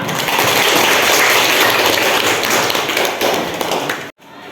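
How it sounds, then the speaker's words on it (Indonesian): A classroom full of people claps steadily in sustained applause for a student, ending abruptly. "Tepuk tangan untuk Bunga."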